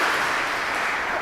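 A church audience claps together in steady, dense applause that fills the room evenly from start to finish, with no gaps or single standout claps.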